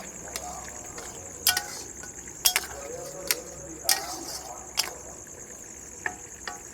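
Mutton ghugni stirred in a pan after garam masala and chaat masala are added, with sharp intermittent scrapes and taps of a spoon against the pan over a steady background hiss, close and moderately loud.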